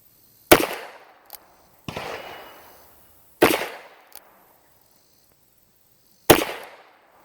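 An old revolver, a 2-inch and a 4-inch barrel, fired in a shooting test: four loud, sharp gunshots spaced a second or more apart, each ringing out and decaying, with faint mechanical clicks between some shots.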